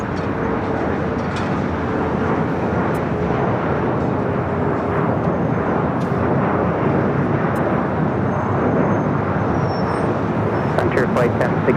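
An airliner taking off from runway 25 right at LAX, a steady broad roar that holds loud throughout, with a voice talking over it.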